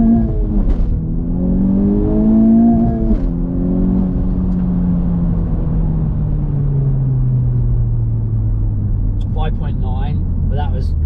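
Facelifted Honda Civic Type R FK8 accelerating hard from a launch with wheelspin, the engine revving loudly and close before the note sweeps down, with a brief voice near the end.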